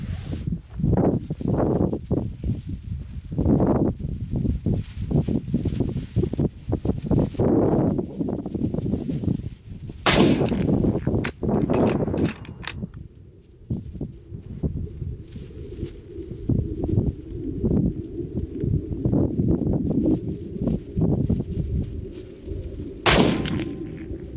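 Rifle shots fired through a Sporter 3-12X44 scope at an outdoor range, several loud sharp cracks spaced seconds apart, with background noise between.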